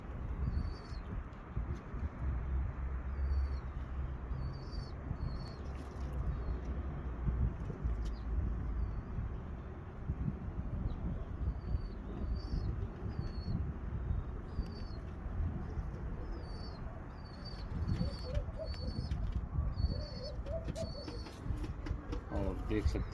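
A male Core Commander pigeon with red eyes, sitting on eggs, gives soft, low, repeated coos, faint and mostly buried under someone talking nearby, clearest near the end.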